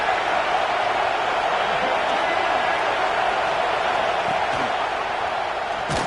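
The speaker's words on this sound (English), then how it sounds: "This crowd bringing the energy and noise early." College football stadium crowd at Clemson, a dense, continuous roar of many voices holding steady throughout, with an announcer talking over it.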